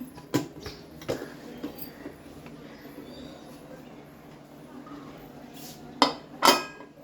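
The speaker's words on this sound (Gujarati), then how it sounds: "કુકરને બંધ કરવાનું છે।" A pressure cooker lid is closed over peas being boiled with salt for ragda. There are sharp metallic clanks and clicks near the start, softer knocks in the middle, and a louder pair of clatters near the end. Faint room noise sits underneath.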